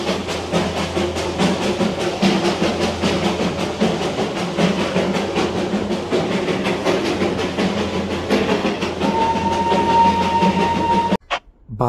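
The Darjeeling toy train runs on its narrow-gauge rails near Ghum with a steady rumbling clatter of wheels. A thin whistle tone sounds late on before the noise breaks off abruptly.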